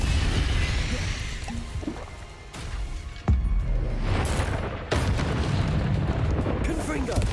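Confringo fire spell blasts in Hogwarts Legacy combat, a few sharp booming explosions cutting through a dense, continuous battle din of spell effects and rumbling.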